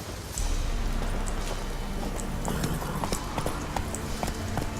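Hooves of Geralt's horse Roach clip-clopping in The Witcher 3: Wild Hunt, a steady close trotting rhythm over soft ambient noise, with faint background sounds and no voice.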